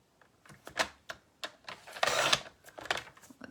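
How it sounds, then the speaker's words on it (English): A paper trimmer cuts a strip of gray slate cardstock with a few light clicks and taps, then a short close rasping slice through the card, followed by soft handling taps. "I need to trim just a hair off of one end."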